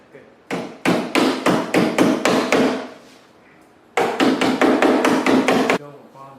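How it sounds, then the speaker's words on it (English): Two bursts of rapid, loud metallic tapping, about seven to eight sharp strikes each, as a screwdriver is knocked against a dent ridge in car body panel, separated by a short pause. "All I'm doing is using a screwdriver to kind of get that ridge back in there."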